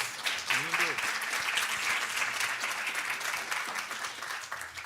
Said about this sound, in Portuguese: Uma salva de palmas já de antemão